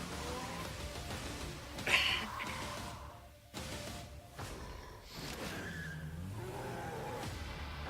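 A car in a video game trailer skids with a brief tire squeal and screech, followed by engine and action effects at moderate level, with no speech.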